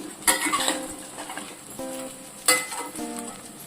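Chicken pieces and ginger sizzle steadily in hot oil while being stirred for chicken pickle, with clinks of a spoon against the pan and a couple of louder stirring bursts.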